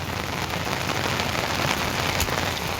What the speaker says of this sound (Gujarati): આજ વરસાદ આવી ગયો